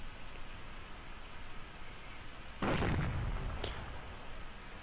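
A single booming video game tank cannon blast, heard with only the distortion layer, with harsh, distorted crunch bursts out of steady hiss, then decays into a rough tail.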